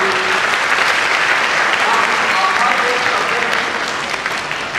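An audience claps steadily and fairly loudly throughout at an Independence Day school speech in Churu, a dense even applause that tapers off slightly at the end.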